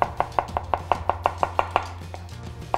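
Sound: knife finely chopping beetroot

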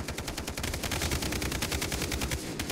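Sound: gunfire in the distance in Far Cry 3 video game

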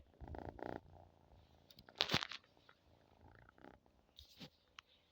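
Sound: cat purring while sleeping

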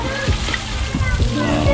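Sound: water splashing in a children's pool

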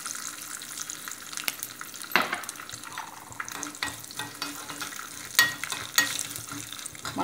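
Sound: tempering with turmeric and chana dal frying in oil

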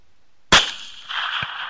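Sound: gunshots from a helicopter during a hog hunt

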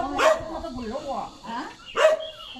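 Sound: puppy barking

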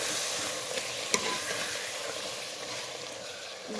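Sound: fenugreek leaves being stirred and fried in a pan

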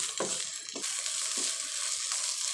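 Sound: stirring gongura leaves with salt in a pan

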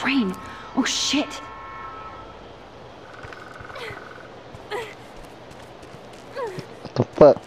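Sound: approaching train with horn, from the video game Life is Strange

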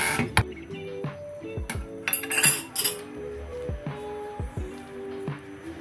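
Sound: plate placed on top of stuffed vine leaves in pot

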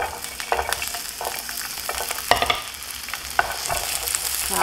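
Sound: onion stir-frying in oil in a pan

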